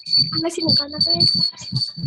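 A steady high, cricket-like chirping hiss running continuously in the background of an online class call, under ongoing speech that fills most of the clip.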